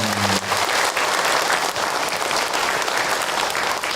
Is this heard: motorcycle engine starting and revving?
no